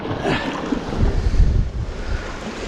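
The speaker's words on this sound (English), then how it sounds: "And there's a wave coming." Waves wash against a rocky shoreline where someone is fishing for bass and wrasse. Close, rumbling surges swell and fade over a few seconds, mixed with gusting wind buffeting the microphone, with no voices.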